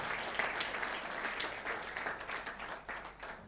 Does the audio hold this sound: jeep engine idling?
no